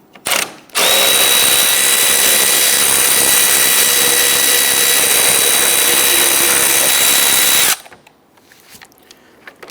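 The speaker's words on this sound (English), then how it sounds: "there's a series of 10mm bolts running across the top. Let's go ahead and loosen and remove these." A power tool, likely an impact driver or drill, loosens 10mm bolts across the top of a 2011–2019 Ford Explorer front bumper cover in one loud, steady whir of about seven seconds that stops abruptly.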